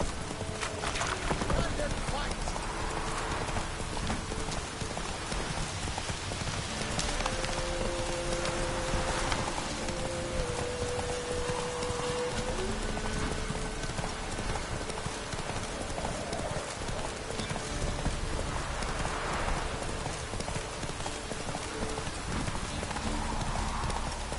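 Geralt's horse Roach trots in The Witcher 3, her hooves clip-clopping in a steady rhythm close by, with occasional game voices and background sound over the hoofbeats.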